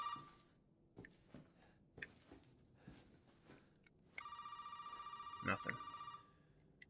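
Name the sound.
telephone ringing in the video game Resident Evil 7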